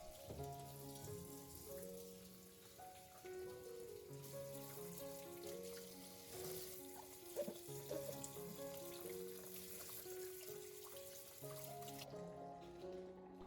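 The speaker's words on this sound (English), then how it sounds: "rinse the tomatoes and bell pepper under running water" Water runs steadily from a tap over tomatoes and bell pepper being rinsed, splashing quietly and continuously while faint music plays in the background.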